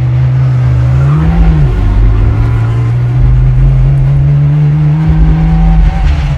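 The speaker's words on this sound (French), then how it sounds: "Écoutez le son du moteur" Homemade Formula 1 style car with a self-built engine, running steadily and loudly up close, a strong droning tone with a brief pitch dip and rise, no talking.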